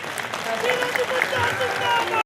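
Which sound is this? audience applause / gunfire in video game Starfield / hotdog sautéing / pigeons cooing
audience applause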